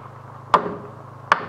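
A hammer drives nails into a wooden deck joist, two sharp, solid hits about three-quarters of a second apart, close and loud over a low hum.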